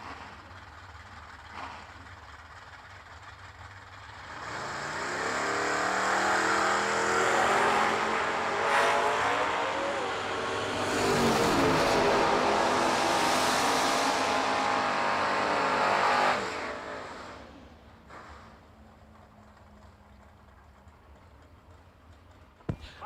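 A 1988 Mustang and a big-tire 1967 Camaro launching down a drag strip at a New Year Nationals event, engines roaring loudly for about twelve seconds as they pass, then fading to ambient crowd noise.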